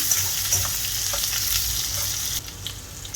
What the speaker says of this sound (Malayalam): എന്നിട്ട് ഇതിലേക്ക് ചെറിയൊരു സവാള ഇട്ട് കൊടുക്കാം. എന്നിട്ട് 1 മിനിറ്റ് ഇതുപോലെ വഴറ്റി കൊടുക്കാം.